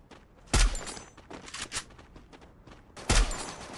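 Gunfire from the video game Free Fire, two loud sharp bursts roughly two and a half seconds apart, with scattered quieter shots and game noise in between.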